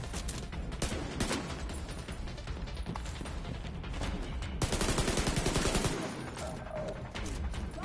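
Rapid gunfire in a Tom Clancy's The Division 2 firefight, sustained bursts of automatic shots with mechanical clatter and a denser volley midway, mostly alone with little talk.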